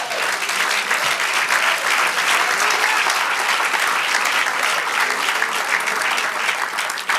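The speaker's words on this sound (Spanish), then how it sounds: "Dale aplauso al Señor." A church congregation gives sustained, loud applause, many hands clapping in a dense even roar lasting about seven seconds without a break.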